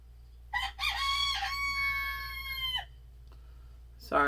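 A rooster crows loudly and close by, one long harmonic call, followed moments later by the start of another crow.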